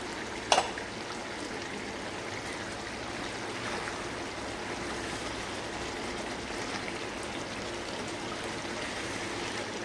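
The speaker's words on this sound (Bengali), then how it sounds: "সুন্দর ফুটতে শুরু করেছে।" Chicken with green chillies boils in a covered pot, making a soft, steady bubbling hiss, broken near the start by one sharp metallic clank.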